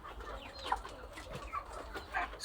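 Chickens clucking softly inside a pen, a few short calls and murmurs scattered over a quiet background with no talking.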